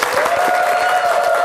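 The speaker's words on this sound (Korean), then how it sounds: "감사 박수 부탁드리겠습니다" A studio audience gives sustained, even applause for a guest on a Korean morning TV talk show, loud and continuous, with a held musical tone running beneath the clapping.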